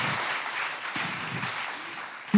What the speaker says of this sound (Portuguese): E vamos aplaudir a esse Deus.